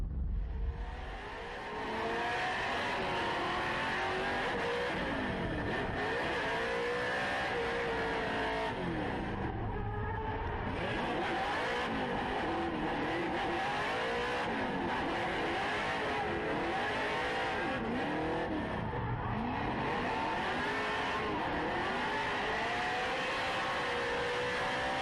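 Formula Drift cars at Road Atlanta, including a supercharged V8 Nissan S14, revving hard with rising and falling engine whine and tire noise, a continuous loud roar that carries on throughout.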